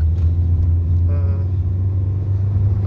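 A Kia Sonet 1.5 diesel automatic accelerating hard, heard from inside the cabin as a loud, constant engine drone that briefly strains and rises in pitch partway through.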